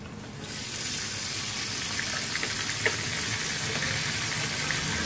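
Tempering (baghar) for chole sizzling in a pan with red chili powder and a splash of water, a dense, continuous hiss and crackle after a quieter start, steady and close.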